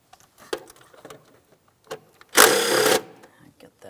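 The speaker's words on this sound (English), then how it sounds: "Let's go ahead and remove that mounting bolt." A ratchet spins off the 8mm throttle body mounting bolt on a 2007–2014 Ford Edge 3.5L, giving a loud buzzing whir of about half a second, with a few light clicks and taps before it.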